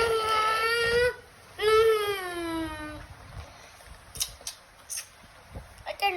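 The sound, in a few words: child imitating the sound of a motorcycle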